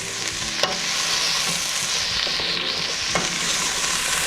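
A pot of seasonings for a sweet potato dish sizzles loudly and constantly, with a broad frying hiss and a few faint clicks of stirring.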